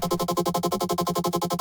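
A synth tone pulses in rapid, even repetitions, each note smeared and chirpy from a dispersion effect, loud and alone.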